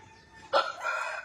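A rooster on a village poultry farm crows once nearby, a short raspy call rising out of faint background noise, with no voices.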